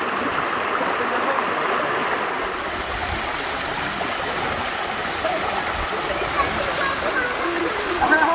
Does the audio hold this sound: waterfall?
yes